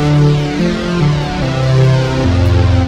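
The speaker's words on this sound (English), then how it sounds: "And the awesome Brigade Chorus." Thick, shimmering synth chords treated with a Brigade Chorus plugin step through several notes, sounding loud, full and gently wavering.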